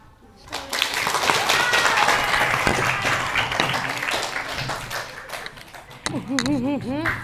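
An audience at a girls' Qur'an presentation at a tahfiz junior high school claps for a speaker, producing sustained dense applause that swells quickly, holds steady, then fades as a voice begins talking over the end.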